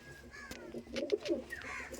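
A teddy pigeon coos softly nearby, a short low throaty call over quiet background noise.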